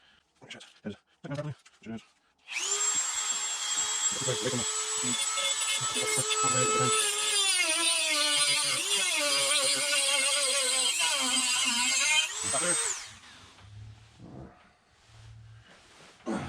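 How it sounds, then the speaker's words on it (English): A Dremel rotary cutting tool grinds through a metal spike on a 1996 Polaris RXL snowmobile, a loud, close, sustained high whine lasting about ten seconds with pitch dips as it bites, bracketed by handling clatter. "Just going to use a Dremel cutting tool on it."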